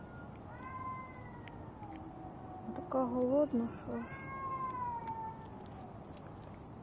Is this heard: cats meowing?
yes